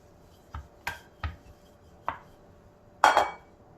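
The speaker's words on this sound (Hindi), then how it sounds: "ये हल्के हल्के से निशान बना रही हूँ चाकू से" A knife taps lightly on Sindhi koki dough in five separate knocks spread over a few seconds, the last one the loudest, close up and alone in a quiet kitchen.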